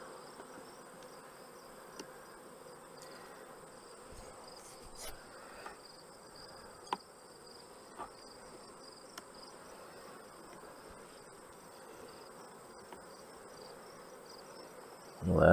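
Honey bees buzz around an open hive, a faint, steady drone with occasional soft ticks and bumps throughout, swelling into a louder noise at the very end.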